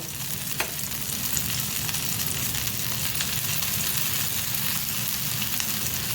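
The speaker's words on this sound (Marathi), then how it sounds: "आणि आता असं आपण तेल सोडून घ्यायचं थोडं थोडं तुम्हाला किती तेल पाहिजे तेवढं तुम्ही कमी जास्त करू शकता आणि थोडं थोडं साईडने पण सोडायचं" Fasting-style thalipeeth frying on a pan with oil drizzled around its edges gives a steady, loud, close sizzle with fine crackling throughout and no talking.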